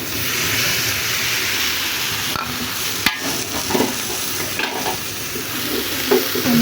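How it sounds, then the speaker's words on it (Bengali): Milk and water go into rice frying in a pan, giving a close, steady sizzle with a few brief clinks and bursts of stirring and no talking. "এখন আমি দুধটা দিয়ে দেবো,"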